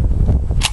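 An SVT-40 rifle loaded with Chinese 7.62x54R ammunition misfires, giving a single loud, sharp mechanical click at close range.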